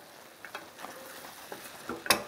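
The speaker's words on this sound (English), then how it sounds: "Combine everything gently together." Spiced seitan and greens stirred in a hot pan, a soft ongoing sizzle punctuated by a few scraping knocks of the utensil, close up and with no talking.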